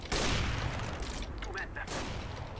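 Counter-Strike: Global Offensive gunfire in a competitive match, a loud burst of shots at the start followed by scattered reports, with voices talking over the game audio.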